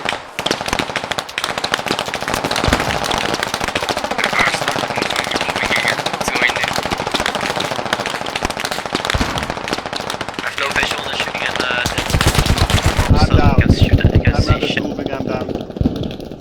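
Gunfire and machine-gun bursts in the military shooter game Squad, rapid cracking volleys filling the whole stretch with a dense, heavy barrage near the end.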